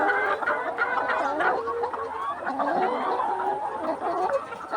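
Layer hens on a poultry farm cluck and murmur continuously in a dense flock chorus, overlapping calls rising and falling close by with a steady low hum underneath.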